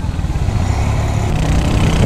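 A Royal Enfield Hunter 350 motorcycle during a brake test, its single-cylinder engine rumbling steadily and close up over road and wind noise, with no talking.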